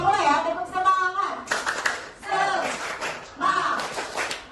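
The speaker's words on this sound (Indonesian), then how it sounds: "Oke, kita mulai ya, tepuk semangat." A junior high class in Jakarta performs rhythmic spirit clapping, bursts of hand claps alternating with the students' chanted voices in a patterned call.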